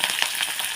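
Curry leaves sizzle in hot oil for tempering, a short, bright, steady crackle close up with no talk over it.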